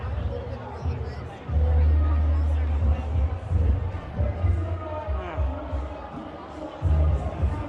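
Crowd babble fills a busy outdoor night bazaar, a steady murmur of many voices with low rumbling underneath and one nearer voice occasionally standing out.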